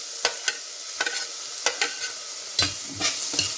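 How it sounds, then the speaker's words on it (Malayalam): Chopped onion, ginger and garlic sautéing in a pan: a gentle sizzle broken by repeated scraping stirs of a spoon, close and clear, with no talking. "ഇതിൻ്റെ പച്ചമണം മാറുന്നിടം വരെ നമുക്കിതൊന്ന് വഴറ്റിയെടുക്കാം."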